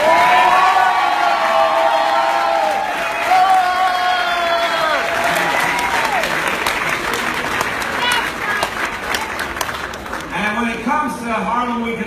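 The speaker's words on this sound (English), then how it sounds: "I'd like to hear a thunderous applause for Congressman Charlie Ray" A large outdoor crowd at a Gracie Mansion event in New York cheers and claps loudly for a congressman, with whoops and shouting voices over dense applause that gradually fades into scattered claps and chatter.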